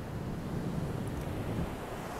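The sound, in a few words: sea waves on a beach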